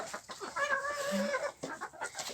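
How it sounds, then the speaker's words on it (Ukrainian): A broody hen and other chickens cluck on a farm, a near, steady run of clucks with a drawn-out call in the middle and no talking. "дивно, що квочка одразу другий день не побігла до гнізда вскочила, встигла вскочити, поки вони повискакували"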